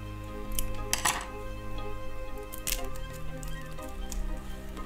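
A Gan 562 M speed cube package is unboxed, with crisp plastic crinkles and light clicks, including a couple of sharper rustling bursts over a steady low background hum.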